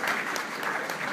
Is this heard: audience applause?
yes